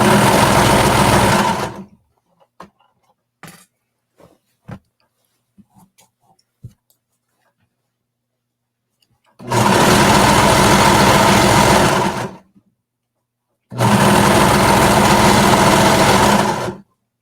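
A sewing machine stitches elastic into the waist of a garment in three loud, steady runs of two to three seconds each, with quiet handling clicks and rustles between the runs.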